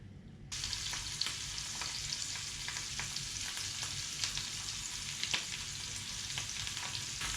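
Grouse frying in butter with seasoning salt at a Rocky Mountain camp, a steady crackling sizzle that starts abruptly and runs throughout with frequent small pops and light stirring clicks.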